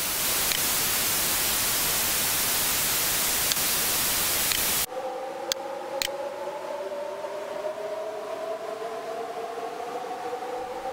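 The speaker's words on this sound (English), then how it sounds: "I'm going to generate some noise, then process it." White noise generated in AudioMulch software hisses loudly and evenly for about five seconds, then cuts abruptly to a quieter filtered wash with slowly rising tonal bands and a couple of brief clicks.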